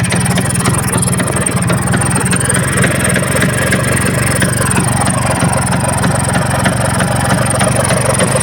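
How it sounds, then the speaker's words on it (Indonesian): A rebuilt Vespa PX150 scooter engine runs steadily and loudly up close, a continuous buzzing idle with no talk over it. "ini mesin udah nyala"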